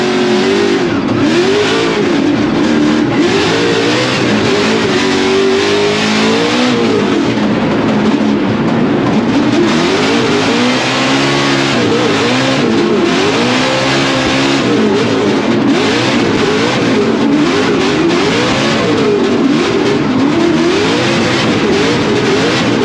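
Mustang drift cars battle at Formula Drift Atlanta, their engines screaming and bouncing up and down in pitch as the drivers work the throttle. The sound is a loud, continuous roar of racing engines at a distance.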